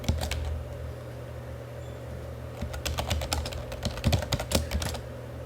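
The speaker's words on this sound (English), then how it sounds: "let's type in a special case." Fingers tap a computer keyboard in a quiet room: a few light keystrokes at first, a pause, then a quicker run of close, clicky presses that ends in a louder flurry.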